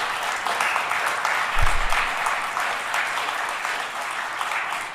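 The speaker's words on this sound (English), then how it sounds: "we do need to give them some applause for what they've done" A crowd at a federal election candidates forum claps steadily in sustained applause, a dense, even wash of hand claps lasting throughout.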